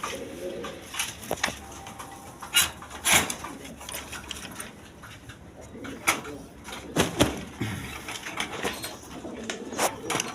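Domestic and foreign fancy colored pigeons coo at a seller's stall, soft low calls scattered under sharp clicks, scrapes and wing flutters close by.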